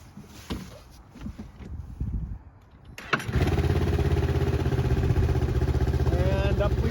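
A snowmobile engine fires up and revs hard and steady as it drives up onto a 4-place ramp trailer, loud and close, after a stretch of people talking and quieter clatter.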